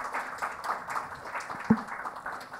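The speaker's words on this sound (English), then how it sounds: "let's have a huge round of applause for our dignitaries seated at the dais" A conference audience applauds dignitaries seated at the dais, a brief, moderately faint patter of many hands clapping indoors.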